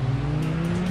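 A Triumph Street Triple motorcycle engine in the PS4 game RIDE, heard as a steady, loud droning hum for about a second with no talk.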